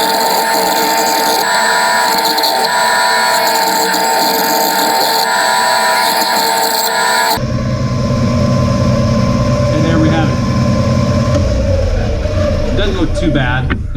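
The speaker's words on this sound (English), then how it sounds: "back to the bandsaw, we're going to cut this shape out" A bandsaw cutting out a wooden crankbait shape, a loud steady whine and grinding that runs throughout, with the tone changing partway as the blade works through the wood.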